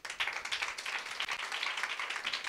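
A congregation claps loudly in quick, rhythmic bursts of many hands, a busy, continuous patter with no talking over it.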